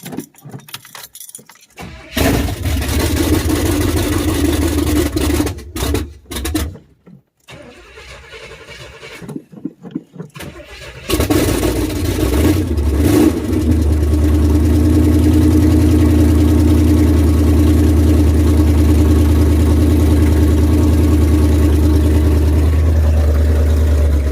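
A Chevy K5 Blazer with a big-block 454 V8 cranks over in several loud stuttering attempts with gaps, then catches and settles into a steady, deep, rumbling idle close by, running without its exhaust fitted.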